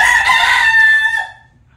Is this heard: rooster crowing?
yes